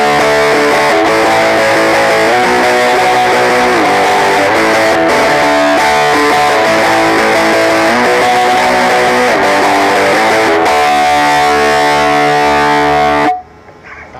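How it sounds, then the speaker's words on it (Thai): A distorted electric guitar plays sustained chords through a small battery-powered portable mini amp, buzzy and gritty, ringing steadily before cutting off near the end. "มันจะมีเสียงแตกด้วยนะครับผมตัวนี้นะครับ"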